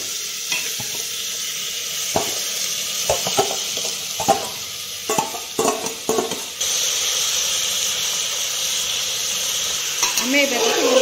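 Marinated mutton hits hot oil in a pressure cooker, starting with scraping stirs and clatter and then breaking into a loud, steady sizzle that lasts to the end.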